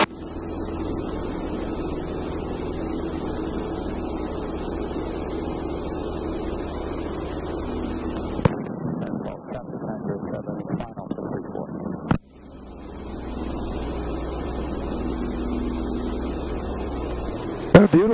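A light airplane departing Turners Falls Airport drones with a steady, loud cabin hum, which briefly cuts out and shifts midway before the engine drone resumes as the aircraft climbs after takeoff.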